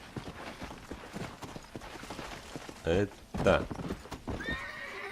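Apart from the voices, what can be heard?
horse hooves and neigh in video game Red Dead Redemption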